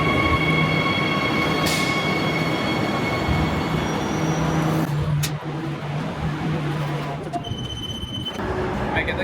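Loud rumbling train arriving at a station in Australia, wheels and engine roaring with tonal whines, then the noise eases and a brief squeal rises near the end; a voice speaks under it.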